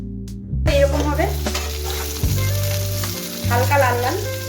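Pointed gourd (potol) pieces fry in oil for a vegetarian yogurt curry. The loud, close sizzle comes with spattering bursts and occasional stirring scrapes, and a steady low hum runs underneath.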